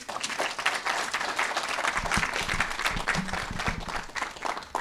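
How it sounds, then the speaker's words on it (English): Steady audience applause at a public service ethics week launch, many hands clapping together at a moderate distance, sustained throughout with a few louder individual claps near the middle. "A round of applause."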